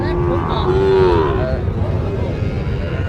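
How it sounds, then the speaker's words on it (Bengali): A Sahiwal bull calf lets out one drawn-out, nasal low close by, over a rumbling background of farm noise. "জাতের একটি ষাঁড় গরু দেখতেছি।"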